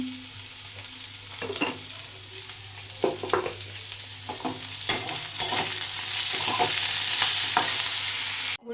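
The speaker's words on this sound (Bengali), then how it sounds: "তো আলু ভেজে দিলাম" Potatoes frying in a pan at home, a steady sizzle with intermittent scraping and stirring clatter from a utensil, close and fairly loud, building slightly toward the end with no talking.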